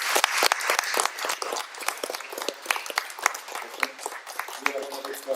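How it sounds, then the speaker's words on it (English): An audience at a California club's mental health talk applauds the speakers: a lively run of overlapping hand claps with crisp individual strikes, and people talking alongside. "Can I have another round of applause for our speakers?"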